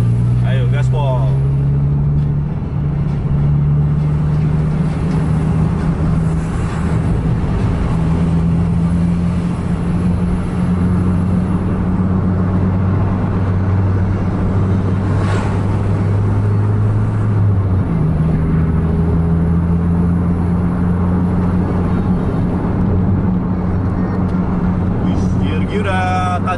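A car engine revs hard and accelerates on a track with a curve leading into a long straight, a loud steady drone with low rumbling tones that rise in pitch, continuous and close throughout.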